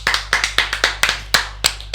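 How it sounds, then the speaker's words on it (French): Audience applause greeting Mathieu Decle, manager of the Amiens Cable Park, at a local event: a steady burst of many hands clapping close by, with no voices over it. "Applaudissements s'il vous plaît pour Mathieu Decle"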